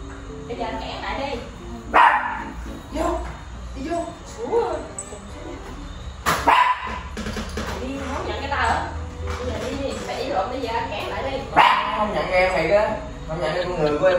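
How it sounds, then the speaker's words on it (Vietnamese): A dog barks and yips in short bursts at home, mixed with people talking loudly nearby throughout. "Ủa làm gì sủa quậy vậy không á?"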